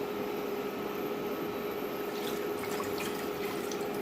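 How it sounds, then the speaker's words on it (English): Water pours steadily into a cooking pot on the stove for boiling gongura leaves, making a continuous, close, even splash with no pauses and no speech. "I'll add the water in."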